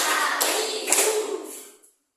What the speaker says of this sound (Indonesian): Tepuk 1, tepuk 2, tepuk 3, tepuk